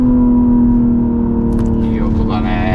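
A BMW M240i xDrive coupe's 3-litre inline-six turbo engine droning steadily from inside the cabin during a test drive, a smooth sustained hum with a faint rising note near the end.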